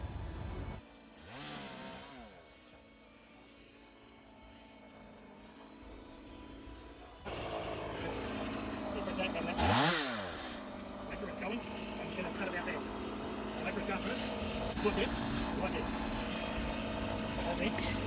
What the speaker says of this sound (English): And here's Nathaniel using the chainsaw for the first time.